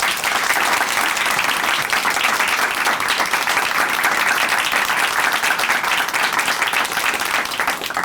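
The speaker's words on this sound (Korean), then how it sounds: "다시 한번 응원의 박수 보내드릴게요" Loud, sustained applause from a large audience at a church TV program, dense and steady without a break, close and full throughout.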